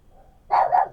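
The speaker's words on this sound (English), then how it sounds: "The neighbour's dog over the back there is having a bit of a whine and a whinge, and Poppy's just letting it know what it th" A neighbour's dog somewhere out back lets out a single short, moderately loud bark-whine, with a brief quiet lead-in before it.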